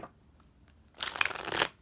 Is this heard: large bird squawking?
no